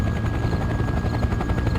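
A helicopter flies in the Farming Simulator 15 video game, its rotor giving a loud, continuous rapid thumping chop with a steady engine hum underneath.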